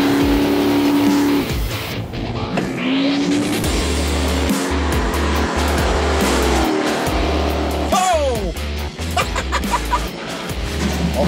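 Drag race between a Tesla P90D and a Chevrolet Nova on slicks: a loud, continuous engine roar with rising revs, squealing tires and sweeping pitch changes as the cars launch and pass.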